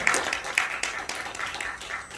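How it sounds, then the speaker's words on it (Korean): Audience clapping at a Korean church installation ceremony, scattered and moderately faint, with individual claps standing out in an uneven rhythm over a continuous patter. "다 함께 박수 영광 드립니다"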